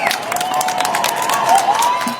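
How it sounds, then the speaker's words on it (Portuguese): A crowd claps and cheers for police officers returning to work, a steady wash of applause with scattered shouts, fairly loud and continuous throughout. "Palmas para os policiais que voltaram a trabalhar."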